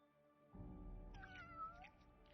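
A cat lets out a single drawn-out meow, faint and close, over a low background hum.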